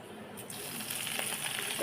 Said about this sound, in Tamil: அதனால் ஒன்று ஒன்றா வறுக்கிறோம்.